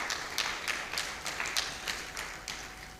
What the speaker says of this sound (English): A round of applause at this juncture.